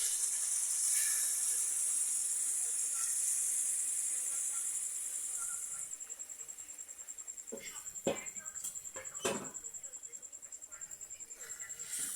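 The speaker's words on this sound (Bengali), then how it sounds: "এখন গরম পানি ঢেলে দিচ্ছি।" Hot water poured into a pan of frying chicken curry sends up a loud, steady broadband hiss for several seconds, which then fades into quieter bubbling with a few sharp clicks and a thin lingering whistle-like tone.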